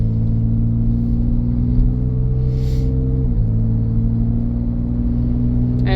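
Steady low rumble of a 2014 Ford Edge's 3.5-liter engine while driving, a continuous interior drone with even road noise and a slight pitch drop midway, no talking.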